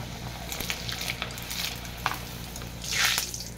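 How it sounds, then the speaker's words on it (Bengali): Steady hot-oil frying of green pea luchi with crackling bursts, swelling into a louder sizzle near the end as more dough hits the oil; no voices. "তেলটা আমার গরম হয়ে গেছে, কড়াইশুটির লুচিগুলো আমি এক এক করে ছেড়ে দেবো"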